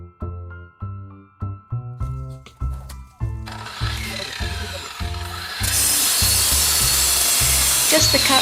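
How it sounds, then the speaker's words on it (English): An angle grinder cuts through patio slabs beside a retaining wall: a harsh, steady grinding roar swells in partway through, louder and continuous near the end, following a run of short tonal musical notes. "We decide to cut all the slabs at the same time using angle grinder."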